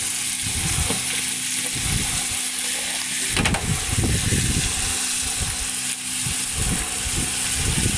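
Onions, salted to speed them along, fry in a pan with a constant crackling sizzle, broken by repeated scraping stirs of a utensil against the pan, close and loud, with no speech.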